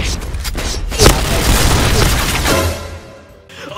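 A grenade explosion in the online shooter Point Blank, a single loud, close boom that rumbles on for a couple of seconds before tailing off.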